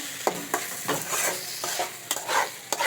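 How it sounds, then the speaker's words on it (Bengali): A spoon stirs pasta in a pan right after lemon juice goes in, giving several quick scraping strokes with a light sizzle underneath, close and fairly quiet. "একটু নাড়িয়ে নেবো"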